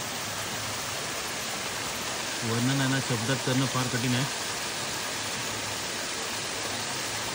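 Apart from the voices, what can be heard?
flowing stream water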